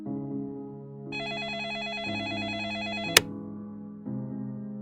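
A hotel telephone rings with an electronic ringtone, a steady warbling tone over a low sustained chord, shifting pitch in stages and cut by one sharp click near the end.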